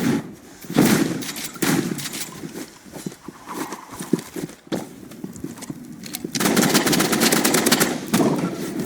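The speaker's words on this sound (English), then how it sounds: "They're just spamming their gunblade." Rapid gunfire from a gunblade and an assault rifle in a 2v2 video game match, dense crackling bursts that run almost continuously and grow heavier toward the end.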